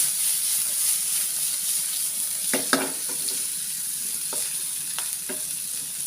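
Butter prawns frying in a pan are stirred, giving a steady sizzle with a few scraping stirs and clinks against the pan.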